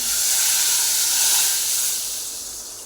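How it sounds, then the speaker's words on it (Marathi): A strong, continuous hiss of hot tempering hitting liquid, steady then slowly fading, with no voices. "आणि आता आपण हे ओतून घेऊया फोडणी डाळीवर"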